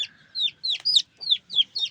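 Desi backyard chickens clucking in a village yard, a rapid series of about seven close, sharp calls in quick rhythmic bursts, loud and clear with no talking.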